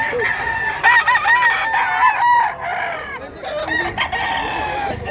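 A rooster at a gamefowl expo crows loudly and close, with several other cocks crowing and clucking around it and faint crowd noise beneath.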